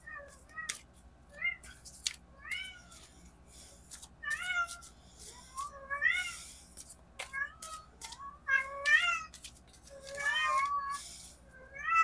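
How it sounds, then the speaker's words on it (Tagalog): A pet cat meows repeatedly in a string of rising, insistent calls through a quiet indoor room, fairly close and clear, with no talk over it. "yung aking pusa ay nag-iingay"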